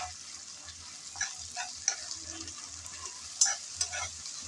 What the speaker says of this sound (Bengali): আদা আর রসুন বাটা পেঁয়াজের সাথে আবারও নেড়ে চেড়ে ভালোভাবে ভেজে নিতে হবে